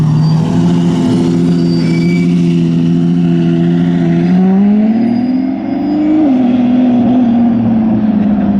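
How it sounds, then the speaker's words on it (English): A Lamborghini Revuelto driving out at a car meet, loud close engine tone holding steady, then rising in a brief rev before settling again. "The Revuelto rolling out."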